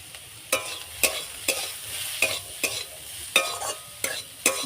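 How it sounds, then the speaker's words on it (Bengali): A potato mixture seasoned with salt, turmeric and chili powder fries in a pan, a spatula scraping and stirring in about eight regular strokes over a steady low sizzle. "ভালো করে ভেজে নেব।"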